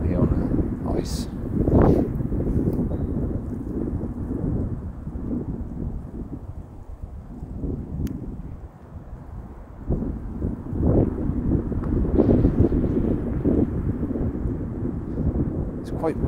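Strong wind blows across a frozen, snowy lake, a steady low rumble of gusts buffeting the microphone that rises and falls throughout.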